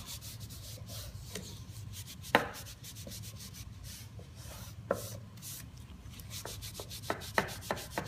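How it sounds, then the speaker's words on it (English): A clean cotton cloth rubs excess Annie Sloan clear coat off an aged white oak wood surface. The close, soft, scratchy rubbing continues throughout, with occasional sharper taps and knocks. "you just take a cloth, a clean cotton cloth, and rub any excess from the wood surface"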